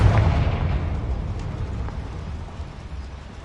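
A Confringo fire spell blasts in Hogwarts Legacy: a loud, deep rumbling explosion at the start that rolls on and slowly fades, with no voices over it.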